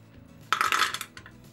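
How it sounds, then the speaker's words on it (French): Twelve sugar cubes tumble into a Moulinex Cookeo pot in a short cluster of hard clinking knocks, close and fairly loud, followed by a couple of lighter rattles. "Je vais rajouter mes 12 morceaux de sucre."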